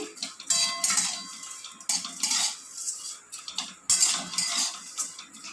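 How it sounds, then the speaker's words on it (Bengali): Vermicelli being fried in ghee in a pan, heard mostly as a utensil scraping and clinking against the pan in repeated bursts over a faint sizzle. "তো সিমইটাকে আমি এবার একটু ভেজে নিচ্ছি।"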